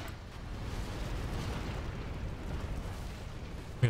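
A continuous low rumble of distant cannon fire and explosions, muffled and rolling, ending with a sharper thump.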